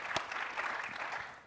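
Audience applause at an outdoor plaza stage during a tech business conference: a steady, dense wash of clapping hands that holds at an even level for about a second and a half.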